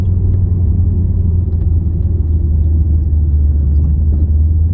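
A Holden VX Commodore with a stock LS1 V8 rolls around a race track at The Bend before a roll-racing run. It gives a loud, steady, deep engine rumble heard from inside the car, with no voices.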